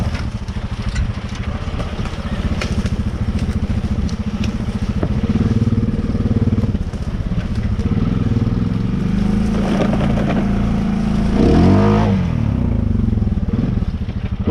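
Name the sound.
ATV engine riding through the woods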